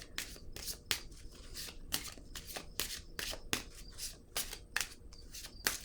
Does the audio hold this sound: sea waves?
no